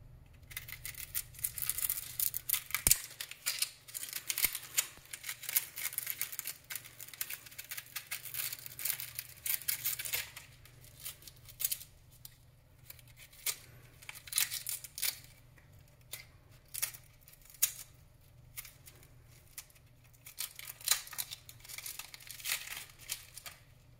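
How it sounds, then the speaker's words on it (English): A short petty knife slicing an onion on a cutting board, crisp irregular crunching cuts and soft taps, quiet and close, with brief pauses between strokes. "I gotta cut up an onion anyways."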